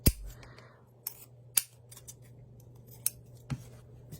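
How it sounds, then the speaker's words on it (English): Scissors snip the ends of a twine bow at a slant, a handful of sharp, separate crisp clicks spaced irregularly over a quiet background with a faint steady hum. "taking your scissors and cutting towards the end at a slant"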